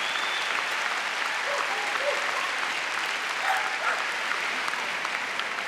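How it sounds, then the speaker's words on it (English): Crowd applause in a large arena at the Crufts 2008 international agility final, a loud continuous roar of clapping with faint cheers and whistles mixed in, sustained evenly throughout. "Lovely round of applause."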